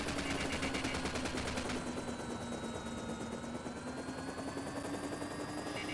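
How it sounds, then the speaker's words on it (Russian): An enemy helicopter in the video game Xenus 2 White Gold thunders with a dense, fast rotor chop, loud and continuous throughout, overlaid with rattling bursts of gunfire. "Мной обнаружен вражеский вертолет."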